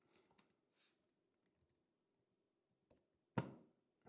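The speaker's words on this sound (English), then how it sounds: "I cannot type on my Mac keyboard." Keystrokes on a Mac computer keyboard, a few faint scattered taps early on, then a couple of sharper, louder clicks near the end against a quiet room.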